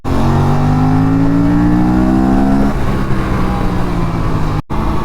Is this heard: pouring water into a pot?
no